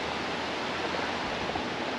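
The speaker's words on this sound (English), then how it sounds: "There's a waterfall right down in there." A waterfall sends up a steady, even rush of broadband water noise from somewhere below, soft and unbroken, with no voices over it.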